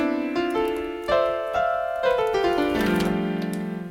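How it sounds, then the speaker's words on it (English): A MIDI keyboard is played through a violin fingerchart application, producing a run of clear sustained notes stepping up and down one after another. "if I press buttons on my MIDI keyboard,"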